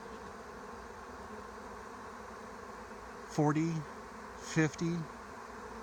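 A swarm of honeybees hums in a steady, dense drone outdoors, with a voice briefly speaking over the buzzing partway through.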